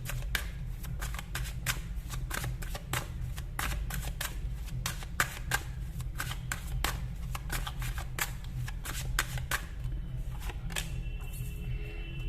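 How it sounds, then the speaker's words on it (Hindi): A deck of tarot cards is shuffled by hand, giving a long run of close, crisp riffling and flicking bursts at an irregular, brisk rhythm over a low steady hum. "अगर आपको कार्ड शफलिंग पसंद नहीं है, आप स्किप कर सकते हो"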